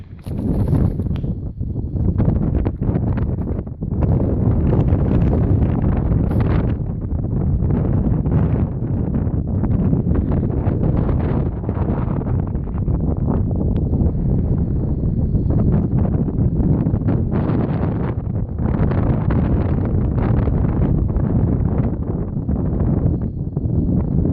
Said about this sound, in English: Yeah, it's really windy up here.